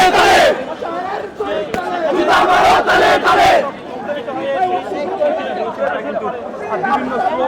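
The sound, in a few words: Dhaka University students chanting slogans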